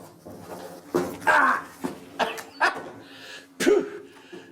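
A dog barks and yips in a series of short, close bursts with whimpering edges, spaced unevenly across a few seconds inside a stone chamber of the Great Pyramid.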